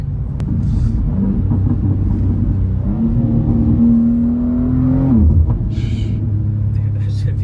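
BMW M cars driving and drifting on a rain-soaked surface, a steady loud engine rumble with a rising whine in the middle that drops away, people talking over it throughout.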